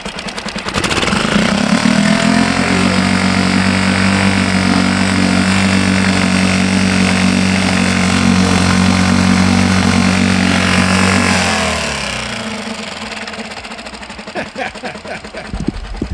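A 2018 Tohatsu 6 hp four-stroke outboard motor revs up into a loud, steady, buzzing drone, holds for about ten seconds, then drops back to a quieter idle, heard close up.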